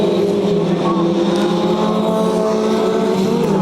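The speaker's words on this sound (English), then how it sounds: "Jordan Dempsey takes the lead going into turn 1" Historic Formula Ford race cars howl into the first corner at a circuit race meeting, a loud, close, continuous engine drone with shifting pitch under a commentator's voice.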